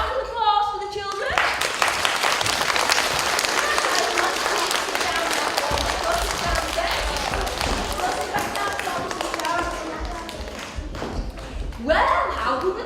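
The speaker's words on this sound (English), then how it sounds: "round of applause for the children" Applause for children at a school assembly, sustained clapping from a sizable group. Some voices and cheering are mixed in at the start and end.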